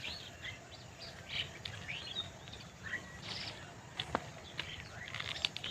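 Many small birds chirp and tweet at moderate distance over open outdoor ambience in a village field, overlapping calls scattered throughout.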